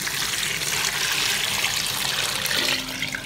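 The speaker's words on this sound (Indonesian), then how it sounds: "lalu kita masukin santan" Coconut milk pours into a pot over ketupat rice cakes, a steady close splashing gush of liquid that runs continuously and eases off toward the end.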